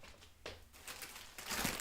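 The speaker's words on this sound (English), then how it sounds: "that is going in a reusable plastic bag with her 2 cuffs" A reusable plastic bag being handled, giving soft crinkling and rustling in a few quiet bursts, close and faint.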